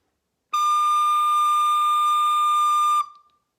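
A single high D held steadily on a recorder, a clear pure whistle-like tone lasting about two and a half seconds before cutting off, close and alone.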